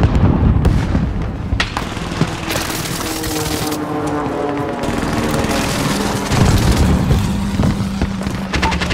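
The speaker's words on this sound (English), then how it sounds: "Allied precision airstrike incoming" Precision airstrike explosions in the video game Warzone: heavy booms and rolling blasts with rapid crackling impacts, loud and dense throughout, with a low droning engine tone running underneath.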